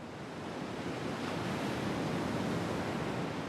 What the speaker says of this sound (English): the waves eat away at the earth and roots.